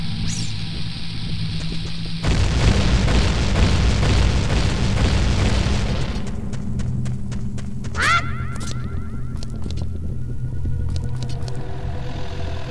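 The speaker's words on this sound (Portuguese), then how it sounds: "Se uma explode, leva tudo." Bomb explosions in the N64 game The Legend of Zelda: Ocarina of Time, Dodongo's Cavern, a loud rumbling blast swelling for several seconds then fading, followed by bright chiming game effects.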